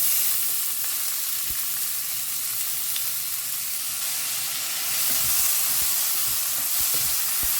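Three finely chopped onions fry in a pan for palak chicken, being browned in a loud, steady sizzle with a few faint stirring clicks and no talking.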